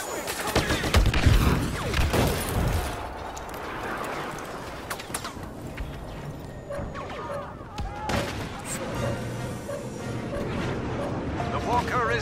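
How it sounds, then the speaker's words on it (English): A bombers' attack run in the Star Wars Battlefront game on PS4 brings a dense, continuous barrage of blasts, explosions and rumbling impacts, loud and sustained throughout, with some talk faintly mixed in. "Bombers are making their attack run."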